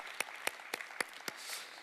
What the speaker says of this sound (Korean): 이 시간에 영광과 존귀의 박수를 올려드리겠습니다